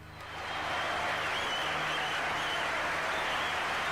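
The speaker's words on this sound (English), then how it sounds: "Please give a big round of applause for the guys, Iron Alien and Young Content" A crowd at a live show breaks into applause that swells within half a second into dense, even clapping, holding steady and fairly loud with no talk over it.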